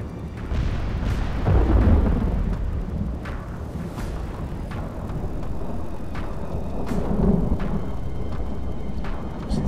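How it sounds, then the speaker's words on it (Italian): A thunderstorm in the video game Medieval 2 Total War, set during a battle between France and England, gives a deep continuous rumble of thunder and rain, with scattered sharp cracks and thumps throughout. "gli effetti sonori del temporale, della pioggia, sono molto ben curati."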